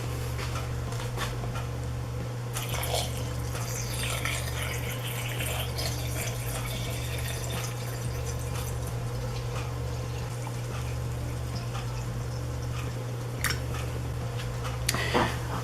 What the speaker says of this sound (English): we're just going to fill the jars with vinegar until the fish is at least covered with at least 1 inch or so of white vinegar